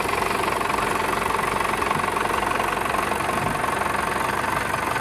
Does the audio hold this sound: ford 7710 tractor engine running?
yes